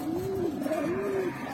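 A big brown-throated (khoyra-gola) pigeon pair, a large male among them, gives a close, clear cooing call in two rolling, wavering phrases with no voices over it.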